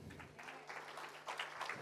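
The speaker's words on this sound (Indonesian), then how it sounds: "Tepuk tangan dong." Church congregation clapping during a worship service, a dense, steady wash of applause from many hands in a large room, heard alone for a short burst.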